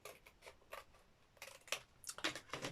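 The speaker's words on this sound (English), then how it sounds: "So I'm going to cut along that line" Scissors cutting paper along a line for a junk journal envelope pocket, a quiet close run of short snipping strokes in irregular bursts.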